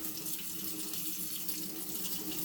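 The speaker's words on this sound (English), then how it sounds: "Fill it up with some nice temperatured water" Hot tap water runs steadily into a water bottle being filled at a sink, a continuous close rushing splash that holds even with no pauses and no voices.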